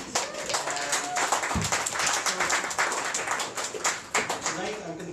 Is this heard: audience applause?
yes